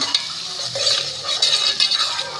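Onions frying in hot ghee on a stovetop, a steady bright sizzle with occasional scrapes and clinks of a stirring spoon against the pan, close and continuous.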